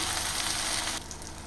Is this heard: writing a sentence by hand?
no